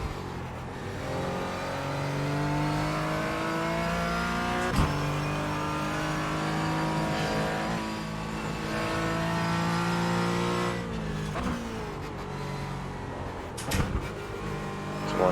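Porsche 718 Cayman GT4 racing in iRacing, its engine droning steadily under load with smooth shifts in pitch as it revs and eases through corners. A few brief clicks sit on top of the steady, moderately loud engine note.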